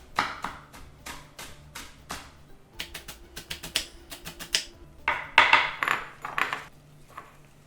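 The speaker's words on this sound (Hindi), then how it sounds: "4 स्प्रिंग अनियन के वाइट्स ले लेते हैं, अच्छे से धो के इनको भी मैं काट लूंगा, इनको भी चॉप कर लेते हैं।" A knife chops washed spring onion whites on a board in quick, crisp, evenly spaced taps, loud and close with no talking, the strokes coming in short rapid bursts.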